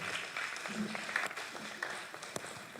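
An audience at the GFA eTrophy 2025 event gives a round of applause, a faint, steady patter of clapping heard at a distance.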